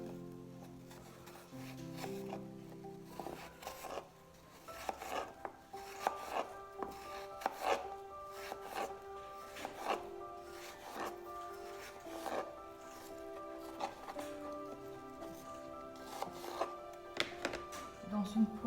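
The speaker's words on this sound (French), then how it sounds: "on va les couper en lamelles." A knife slicing peeled, cored apples into thin slices for a Normandy apple and Camembert dish, producing a steady series of soft chops and thunks against a board, with a faint tonal hum in the background.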